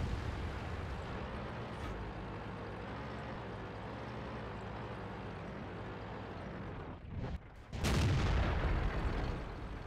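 A King Tiger tank in World of Tanks fires its cannon, one loud boom that cuts through the steady rumble of the engine, followed by a lingering blast.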